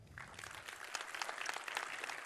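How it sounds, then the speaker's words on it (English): A conference audience applauding after a talk on C++20 coroutines, a brief burst of many hands clapping in a hall, moderately faint and even throughout. "Big applause for Miłosz Warzecha."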